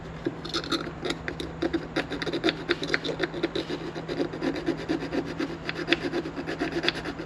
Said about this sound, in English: I'm going to file those out as well.